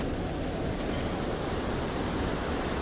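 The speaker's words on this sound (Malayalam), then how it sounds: "ഇവിടെ നമ്മൾ ഇരച്ചിപ്പാറ വാട്ടർഫോൾസ് എത്തിയിട്ടുണ്ട്" Irachilpara waterfall at Kanthalloor, in Kerala's hills, roars as a steady, broad rush of falling water, close and unbroken, with no voices over it.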